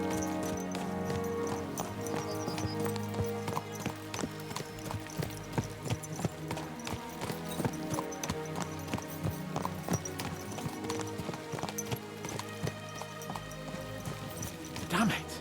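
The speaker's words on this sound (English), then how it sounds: "Let's really spur these horses on, eh?" Horses' hooves clip-clop steadily along a road in a medieval role-playing video game, a brisk repeating beat riding under layered orchestral music with occasional whinnies.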